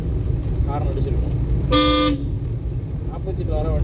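A single car horn blares for about half a second amid steady traffic rumble, with people talking before and after the honk.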